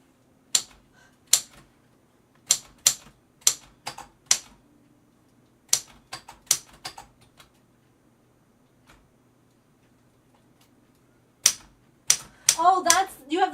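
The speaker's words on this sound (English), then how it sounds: "you have the typewriter in the basement out" A typewriter in a basement clacks out messages in irregular bursts of sharp, close key strikes separated by pauses, ending with a denser cluster of typing alongside a brief voice.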